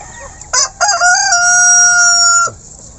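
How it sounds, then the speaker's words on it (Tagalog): A Rhode Island heritage breeder rooster crows loud and close, one drawn-out call after a couple of short clucks, ending abruptly, with no talking. "Pakita ko sa inyo, ito yung breeder kong Rhode Island."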